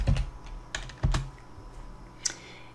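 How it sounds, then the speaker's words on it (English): Typing on a computer keyboard while setting up the Windows 10 tiles menu, a few quiet, close key clicks spaced irregularly. "I'm going to get rid of that and type something else"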